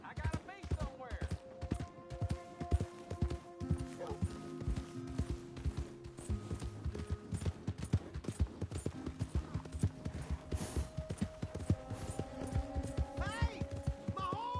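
Rapid video game hoofbeats clatter continuously over a bed of layered music tones, with short bits of voice mixed in, in Red Dead Redemption 2.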